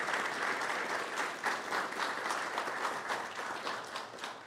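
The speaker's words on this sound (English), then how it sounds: "Let's give them a big round of applause for winning the state." Steady applause from a county board meeting audience honoring student state champions in game design, a continuous even patter of many hands clapping at moderate distance, without voices.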